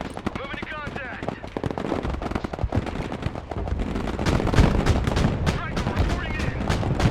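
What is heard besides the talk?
gunfire in the video game Broken Arrow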